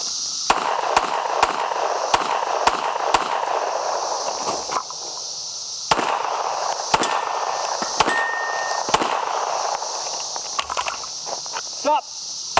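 Gunshots from several guns striking steel popper targets, a steady series of sharp cracks each followed by a metallic clang, evenly spaced then faster toward the end, with someone speaking briefly.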